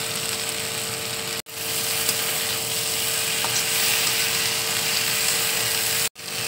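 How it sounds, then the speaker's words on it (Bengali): Steady sizzling of frying spices in a pan as eggplant and potato are added for a Bengali begun aloo tarkari, a continuous close hiss broken by two brief dropouts. "এবার আমি বেগুনটা দিয়ে দিচ্ছি।"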